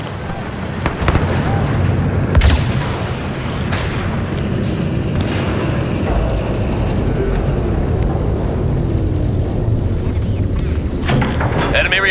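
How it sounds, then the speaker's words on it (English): An MTT battle droid transport firing its cannons in a Star Wars game, a loud sustained barrage of booming blasts and explosions with scattered sharp cracks over a rumbling battlefield background. "MTT preparing to fire!"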